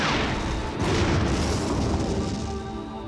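A blast of explosives set off near a flame on a test range: one heavy, broad boom that fills the whole stretch and rolls on as a rumbling roar with no clear decay, loud and close, with no talking.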